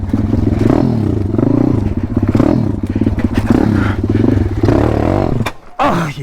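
Dirt motorcycle laboring up a steep bank on a humid day with a quick quarter-turn throttle fitted, engine chugging loud and close with rhythmic pulsing, clattering and scraping, then cutting out near the end before a brief restart.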